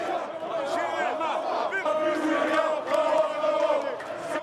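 A protest crowd in Algeria sings protest songs together in chorus, a loud, sustained mass of many voices that swells and carries on throughout.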